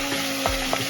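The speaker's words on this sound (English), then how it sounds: "because the pan is hot, because it's hot, you're gonna get a nice sizzle." A sandwich fries in a hot pan, giving a steady, close sizzle with a couple of soft scraping stirs mixed in.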